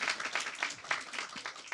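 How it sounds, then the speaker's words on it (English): Audience applause after a talk on Native American identity, a steady patter of hand claps across a room, moderately close and continuous throughout the brief moment with no voices over it. "Round of applause definitely required there."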